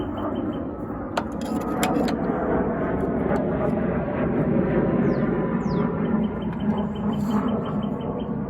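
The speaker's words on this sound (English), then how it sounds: "And here comes another jet." A jet aircraft passes overhead outdoors, a steady broad roar that holds loud and continuous throughout, with a few faint bird chirps and brief clicks on top.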